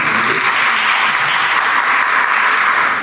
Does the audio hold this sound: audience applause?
yes